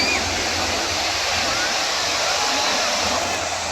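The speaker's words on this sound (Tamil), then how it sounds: "தண்ணி பார்த்தீங்கன்னா ரொம்ப ஹெவியாக வருது." Heavy water rushing over Kodiveri dam, a loud, steady roar of cascading water filling the scene, with people talking over it.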